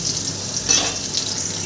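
Vegetables fry in oil, cooked without turmeric, giving a brief, steady, close sizzling hiss with no voices.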